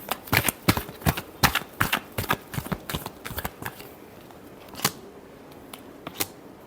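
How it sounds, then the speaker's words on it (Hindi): Tarot cards being shuffled by hand, a burst of rapid crisp riffling snaps that thins out into a few scattered card taps, close and fairly quiet, with no talking. "Last shuffle."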